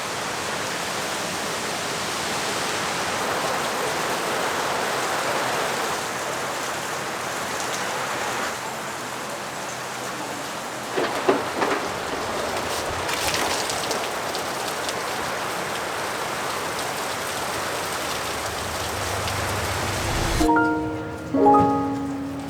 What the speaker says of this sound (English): stuck beneath the roof here waiting for the rain to pass